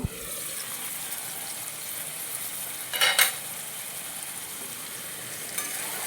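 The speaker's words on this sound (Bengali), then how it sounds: "একটু নাড়ে চেড়ে নিলাম, জল শুকিয়ে এসেছে" Taro greens cooking with hilsa fish head are stirred in a pan, a faint steady sizzle with one brief louder scraping stir near the middle.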